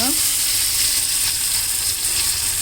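Cumin, mustard seeds and fenugreek sizzling in hot oil for a cucumber curry, a loud continuous close crackle and hiss.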